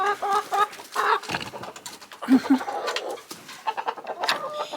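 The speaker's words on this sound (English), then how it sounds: "come on, chicks. Come on, chicks. Here, chicks." Backyard chickens clucking and squawking in bursts as they gather when called, close and lively, with a few brief louder calls among the flock.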